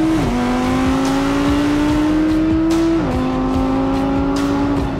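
An Audi R8 sports car engine pulls hard and close, its loud tone climbing steadily, dropping with a shift, then rising again.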